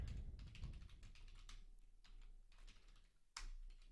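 Keystrokes on a computer keyboard while working in a spreadsheet, quick clusters of soft clicks with brief pauses and a sharper burst near the end, close and fairly quiet, with no talking.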